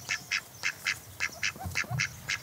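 Indian Runner ducks quack in a vegetable garden in the Landes, a steady run of about ten short, nasal calls in quick succession at close range. Nobody talks over them.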